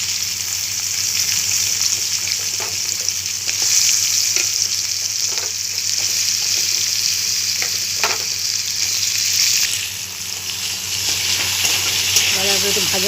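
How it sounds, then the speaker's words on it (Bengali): Cut potatoes fry in hot oil in a pan on a gas stove, giving a steady, close sizzle broken by occasional scrapes of stirring. "আলুগুলো একটু ভাজা ভাজা করে নিই।"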